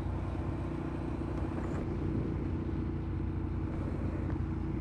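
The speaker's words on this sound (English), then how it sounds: "I think it's the sound that really is the biggest lure to this Ducati V-twin with the dual cans." A Ducati Monster S4R V-twin with dual exhaust cans rumbles steadily on a cold spring ride in Texas hill country, a low continuous engine drone with wind noise and no speech.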